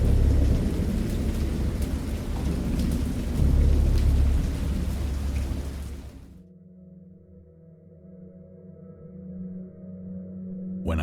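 A thunderstorm with a heavy wash of rain and deep rumbling thunder for about six seconds, then cutting to a much quieter low hum with faint rain-like hiss.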